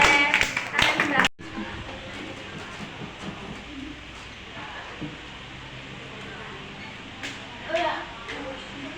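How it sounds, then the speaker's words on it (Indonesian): A classroom of schoolchildren claps hands in a loud, dense burst for about a second, then falls into quieter murmuring and scattered voices with light taps. "Tepuk tangan dulu biar kita semangat."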